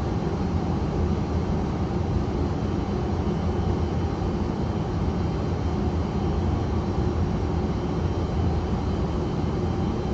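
Airliner landing at Frankfurt heard from inside the cockpit, a steady, loud, broad rumble of engines and airflow that holds constant throughout with no talking.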